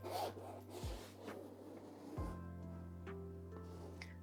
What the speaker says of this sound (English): I'm going to scrape into it. Add some marks that way.